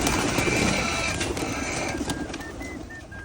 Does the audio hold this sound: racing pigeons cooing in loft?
yes